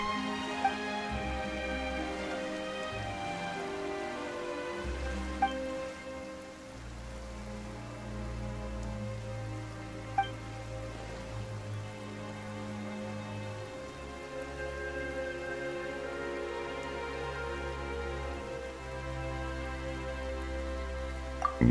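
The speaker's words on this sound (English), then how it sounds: "Why is it raining all of a sudden?" Steady rain in the Genshin Impact game world, a soft continuous patter laid under sustained musical tones with a few brief chimes, no voices.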